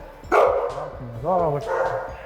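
Dogs at an animal shelter barking and yipping, a couple of sharp close barks followed by a higher whining yelp, with a person's voice mixed in.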